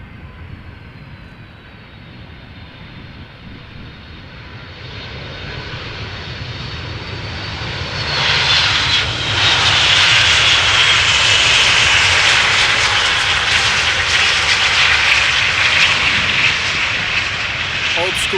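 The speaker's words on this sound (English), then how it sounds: "Here we have another pencil coming in. Icelandair flight 500, 757-300." An Icelandair Boeing 757-300, 21 years old, arrives at Amsterdam Schiphol. Its jet roar builds from a distant rumble to a loud, steady whine and rush that holds to the end.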